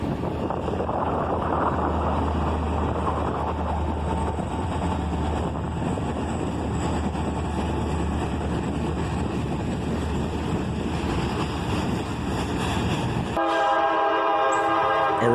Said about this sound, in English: there's a Norfolk Southern train coming up the other way